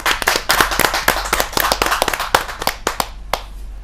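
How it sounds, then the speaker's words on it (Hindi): A live audience at a Hindi poetry gathering (kavi sammelan) bursts into loud, sustained applause to welcome a poet, with dense clapping thinning out to a few scattered claps at the end. "स्वागत कीजिए तालियों के साथ"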